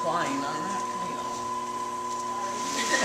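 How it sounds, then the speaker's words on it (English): A pottery wheel motor gives off a steady, high-pitched whine that holds one constant tone close by, with a person talking over it. "I wish I could get rid of the whine on that wheel."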